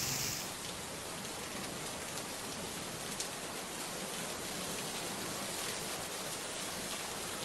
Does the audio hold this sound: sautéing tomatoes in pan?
no